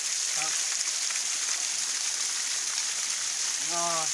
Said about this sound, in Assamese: ঝৰ্ণা মজাকৈ পৰি আছে এই ওপৰৰ পৰা